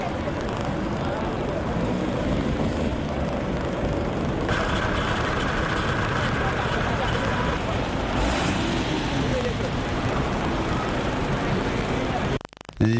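Road traffic with buses and heavy trucks on wet streets after a night of heavy rain, a steady rumbling wash of engines and tyres, with a brief tonal hum partway through.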